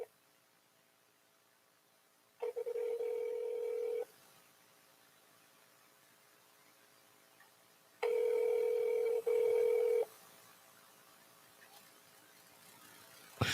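An unanswered telephone call rings out in steady bursts: one long ring, a pause, then a double ring, each fairly loud against a quiet background.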